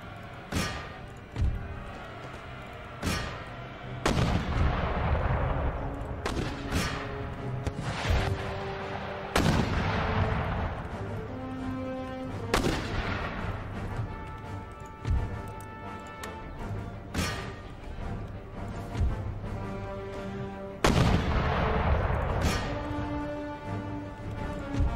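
Artillery and mortar fire in Empire: Total War, a series of loud booming blasts spaced irregularly across the battle. Each boom has a sharp onset and a rumbling decay over a musical score.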